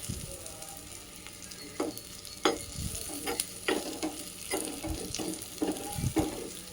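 Oil sizzles and crackles in an iron pan as spices are tempered, while a utensil stirs and scrapes repeatedly, with irregular sharp pops and clinks close by.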